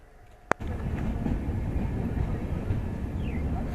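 Avadh Assam Express pulling out of the small two-platform Farkating junction: a sharp click, then a steady loud rolling rumble of wheels on rails with faint clatter, close and continuous.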